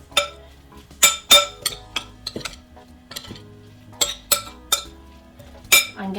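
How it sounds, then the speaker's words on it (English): A spoon stirring spinach and cheese filling in a bowl, with sharp irregular clinks of utensil against the dish separated by quiet gaps. "I just wanna stir this together."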